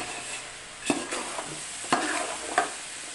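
Potatoes fry in a pan with a quiet hiss. A spatula stirs and scrapes them three or four times, and each stroke gives a sharp clatter. Nobody speaks.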